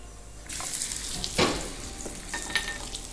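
Broken cashews and raisins sizzle in hot ghee for payasam, a dense crackling hiss that jumps in abruptly and flares with brief bursts as the pan is stirred, close and fairly loud with no talk.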